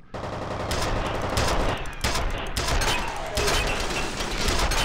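Sustained rapid automatic gunfire from a weapon in the video game F.E.A.R. comes in dense loud bursts with brief pauses between them, close and harsh.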